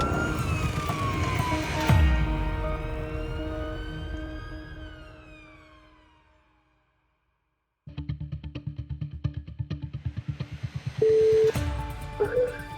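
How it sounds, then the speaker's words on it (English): An ambulance siren sweeps and wails on a UK emergency run, rising and falling tones that fade into a short silence before pulsing, rapid siren bursts return loudly. "Blue lights and sirens as fast as they possibly can."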